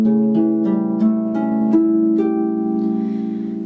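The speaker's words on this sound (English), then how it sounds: "we can easily turn that into an arpeggio by playing them like this" Harp playing an A dominant seventh arpeggio, its notes plucked one after another in a steady rising sequence and overlapping as each string keeps ringing, then fading out, with no voices.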